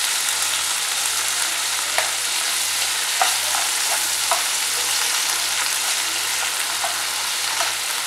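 Tomato with salt and asafoetida sizzles in a pan, a steady, close frying hiss broken by a few light taps of a stirring spoon against the pan.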